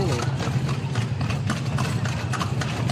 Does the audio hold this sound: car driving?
no